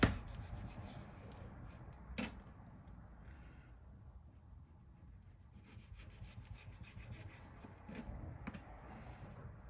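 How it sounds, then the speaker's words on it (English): A cutting board used for slicing salmon strips rubs and scrapes across a kitchen counter in soft, close wooden grinds and knocks, with a sharp knock near the start and more scraping toward the end. "Cutting board is sliding here."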